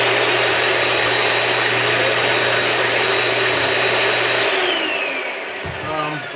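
A small handheld parts vacuum cleaner runs with a loud, continuous whining motor hum close by, then winds down near the end with a falling pitch, with no talking.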